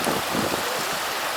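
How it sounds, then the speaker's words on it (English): Water splashing during a child's play, a continuous broadband wash of sloshing water with brief surges, close by and fairly loud, with no voices. "Can you splash? You splash me."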